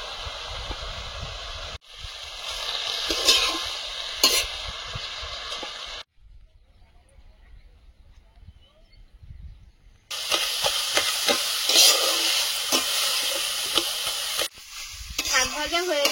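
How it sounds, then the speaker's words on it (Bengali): Leafy greens with turmeric and salt frying in a pan, a steady sizzle with stirring scrapes that stops midway, leaving a quiet gap, then resumes loudly with clattering stirs. "শাক ভাজা হয়ে গেছে, নামিয়ে নেব।"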